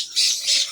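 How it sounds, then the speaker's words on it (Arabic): Two loud, harsh squawks from a parrot at a zoo, the second following closely after the first, with no talk over them. "ومعاهم ببغاء الدرة"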